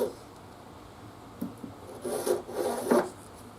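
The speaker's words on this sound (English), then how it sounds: "you can take the Shinto and go that way against it" A Shinto rasp files the wooden neck of a bass guitar in a luthier's workshop, giving a few short, close scraping strokes that grow louder and rougher toward the end.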